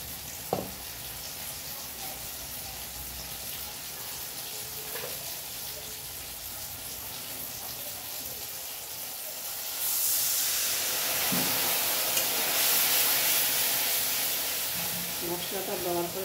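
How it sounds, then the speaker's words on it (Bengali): Spices with turmeric cooking in a pan sizzle and hiss steadily, growing into a louder, steamy burst partway through when water goes in, with occasional clinks of stirring. "মশলাটা দেওয়ার পরে একটু জল দিয়ে মশলাটা কষালে ভালো হবে।"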